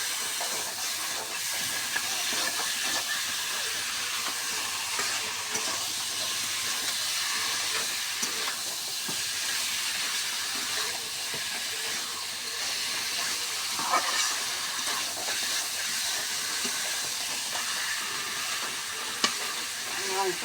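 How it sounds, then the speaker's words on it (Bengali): Chicken with spices being sautéed (kosha) in a pan for a potato and pointed gourd curry: a steady, even sizzle and hiss runs throughout, with occasional soft scrapes of stirring, close by and without talk. "এখন আমি আস্তে আস্তে কষে নেব"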